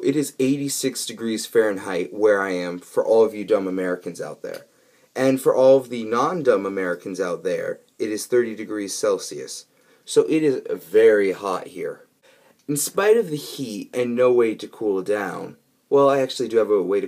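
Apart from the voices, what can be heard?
None of the usual background noises is heard.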